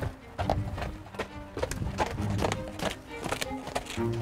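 A horse's hooves clip-clop in a steady rhythm as it moves during a lameness examination after a nerve block, close and moderately loud, with faint voices in the background.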